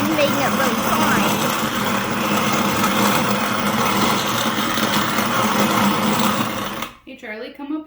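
Grainmaker 99 grain mill grinding wheat, a loud continuous mechanical grinding whir that runs steadily for several seconds and then cuts off, followed by a voice speaking.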